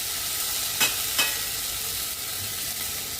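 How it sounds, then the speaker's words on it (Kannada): Tomatoes and curry leaves frying in a pan, a steady soft sizzle with a couple of quick stirring scrapes near the start, close and fairly loud, no voices. "ಟೊಮೆಟೊ ಮತ್ತು ಕರಿಬೇವಿನ ಸೊಪ್ಪನ್ನು ಹಾಕ್ಕೊತಾ ಇದ್ದೀನಿ. ಟೊಮೆಟೊ ಮೆತ್ತಗಾಗೋವರೆಗೂ ಸ್ವಲ್ಪ ಇದನ್ನು ಹುರ್ಕೊಳ್ಳೋಣ"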